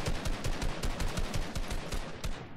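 Rapid automatic gunfire in a multiplayer shooter video game, a dense, loud stream of close, evenly spaced shots that continues throughout, with no talking.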